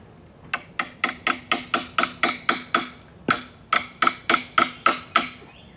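A hammer strikes a 12-inch Wellson pry bar into wood about seventeen times in two quick, evenly spaced series of loud, close, ringing metallic blows.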